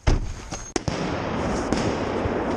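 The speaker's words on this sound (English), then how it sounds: "Wait for the bang. Grenade." A flash-bang grenade going off during a police SWAT raid on a drug suspect's home: sharp bangs crack out, followed by a sustained noisy rumble.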